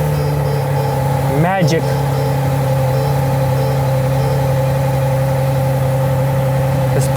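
A rebuilt Ferrari 812 Superfast fires up and settles into a loud, steady idle drone, with a short rising sweep early on; a voice speaks over the engine.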